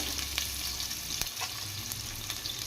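Thinly sliced onions and curry leaves frying together in oil for a Nellore fish curry, a soft continuous sizzle with a few clicks and stirring sounds, fairly quiet and with no voices.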